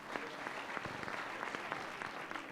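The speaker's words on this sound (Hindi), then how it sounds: "एक बार भाई के लिए जोरदार तालियां" A crowd at a live talk session in India breaks into sustained, even applause, a dense wash of clapping with no voices over it.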